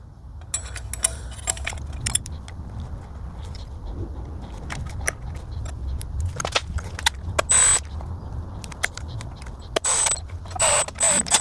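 A hand ratchet clicks in quick bursts while tightening fasteners on bearing retainer plates in a Tesla large drive unit rebuild, close and loud, with metallic clinks and tool handling between runs.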